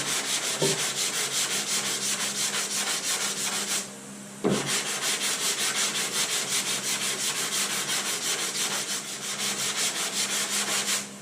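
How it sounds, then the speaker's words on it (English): Rhythmic hand sanding of body filler with a sanding block, repeated rasping strokes close by, with a short pause midway before the scraping resumes at the same steady pace. "Start getting transparent, you got to stop sanding."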